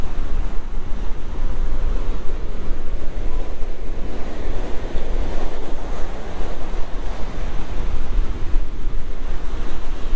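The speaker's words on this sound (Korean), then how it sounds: "근데 파도 치는 게 되게 멋있다. 파도가 되게 예술적으로 친다." Ocean surf pounds the shore at Nha Trang, Vietnam, a continuous loud roar of breaking waves mixed with gusty wind buffeting the microphone, with no voices.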